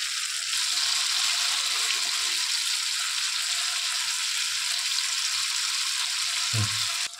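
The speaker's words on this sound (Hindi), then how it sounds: "तो यहाँ पे देखिए पहला बैच में यहाँ पे फ्राई करके ले रही हूँ" Rice flour and potato snacks fry in hot oil in a home kitchen with a loud, constant sizzle and crackle. Near the end there is a brief low thump, and then the sizzle suddenly drops off.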